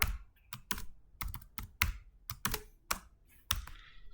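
Rapid bursts of key clicks from a computer keyboard while C code is typed, close and crisp, uneven taps with brief pauses between them and no voices.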